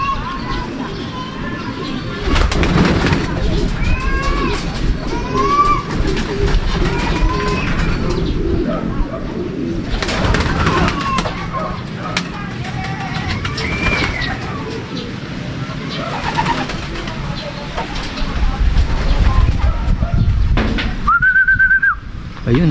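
Homing pigeons landing after a 256 km summer derby race from Vigan, with bird calls and coos scattered among whistles and outdoor noise, while people talk throughout.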